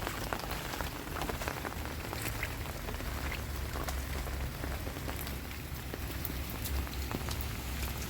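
Steady rain falls on a farm field throughout, a dense hiss of drops pattering on a surface with scattered louder drips, fairly close and continuous.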